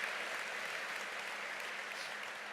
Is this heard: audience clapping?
yes